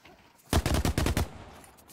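Rapid burst of gunfire in The Cycle: Frontier, about seven loud shots in quick succession over roughly three-quarters of a second, followed by fading quiet.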